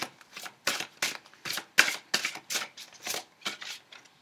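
A deck of cards is handled for a card draw in a reading: a series of about ten brisk, papery riffling swishes in an even rhythm, close and clear, with no voice.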